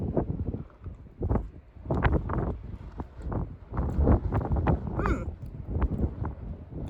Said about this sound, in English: I'm sorry if it's getting really windy and the wind is loud.